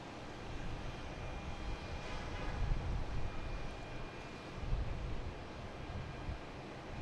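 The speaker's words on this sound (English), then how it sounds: "here is Iberia coming in from Madrid. A330-200, flight 345" Iberia Airbus A330-200, flight from Madrid, on landing approach at Boston Logan, a steady broadband jet roar at moderate distance, swelling slightly twice as it passes, with no talk over it.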